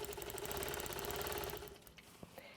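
A sewing machine stitches in the ditch while quilting a log cabin quilt, running steadily and close up for about a second and a half, then stopping, with a few small clicks after.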